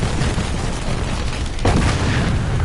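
A tank blowing up in the War Thunder game: a loud, dense rumbling roar that grows heavier with a sudden burst partway through, then a sustained booming wash, with no talk.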